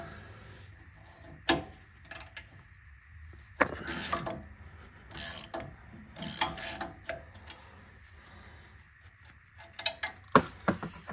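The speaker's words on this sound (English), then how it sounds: "I'm going to use a 6 millimeter hex in here and then a 17 millimeter wrench on the bolt, and that'll be able to loosen this." A 17 mm wrench turns a bolt while a 6 mm hex key holds it, loosening a sway bar end link on a Lexus GX470 front suspension: scattered metallic clicks and ratcheting scrapes in short bursts, fairly close, with no talking.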